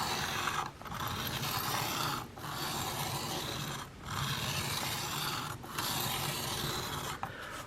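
Knife being stroked back and forth across a 1200 grit sharpening plate, a steady close rasping rub in long passes broken by brief pauses roughly every one and a half seconds as the blade is flipped.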